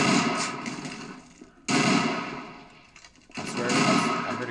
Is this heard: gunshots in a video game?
yes